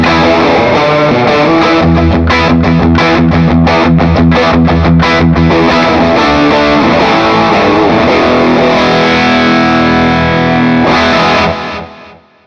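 A Fractal modeled amp dimed at 10 with the guitar volume knob fully open drives a loud, heavily distorted electric guitar riff of rapid chugging strikes that settles into sustained ringing chords before fading at the end.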